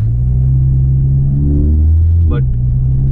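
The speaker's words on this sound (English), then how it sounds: "I'll just show you if I kind of accelerate and brake hard, my ABS kicks in" A Skoda Octavia RS245 on Ohlins Road & Track coilovers, with worn front tires and little front grip, is driven hard: the engine drones and climbs under acceleration, then drops off abruptly as heavy braking begins near the end.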